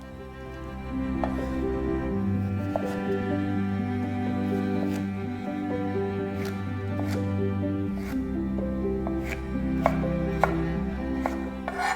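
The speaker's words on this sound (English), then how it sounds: "Chop some carrots into matchsticks. Repeat with some cucumber." A knife chops carrots and cucumber into matchsticks on a cutting board, a series of sharp, irregularly spaced taps over steady background music.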